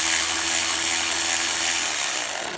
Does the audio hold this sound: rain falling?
no